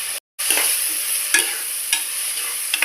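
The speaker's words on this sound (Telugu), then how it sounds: "ఉల్లిపాయ బాగా ఎర్రగా వేగాలండి" Onions for chicken curry fry in hot oil with a steady close sizzle, punctuated by a few scraping strokes of a spoon stirring them, briefly interrupted by a short silence near the start, without speech.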